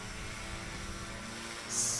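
A STOL light aircraft engine at an airpark competition in Pocola, Oklahoma, hums steadily from a distance, then briefly swells louder as it spools up for takeoff.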